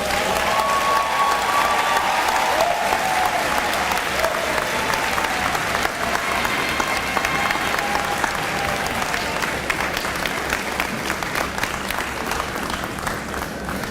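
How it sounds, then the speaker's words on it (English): Sustained, dense audience applause at a university commencement ceremony after a speech, a steady roar of many hands clapping throughout with light crowd noise. "let's give Dr. Omishakin another rousing round of applause for that very appropriate and needed message"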